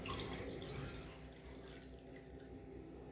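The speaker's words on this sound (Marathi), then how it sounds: "आता ह्याच्यामध्ये ओतून घेतली मी।" Buttermilk (spiced chaas) is poured into a glass, a faint, soft liquid trickle and splash at close range, fading gradually.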